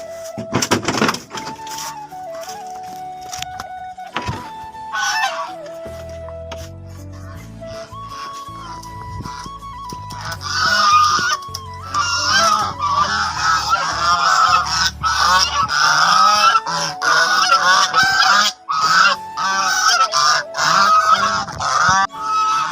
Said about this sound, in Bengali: এবার যাব আমরা আমার হাঁসের খামারের মধ্যে কাজ করতে